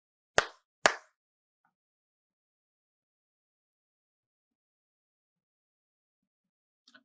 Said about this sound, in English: So only 2 claps and wait for 5 seconds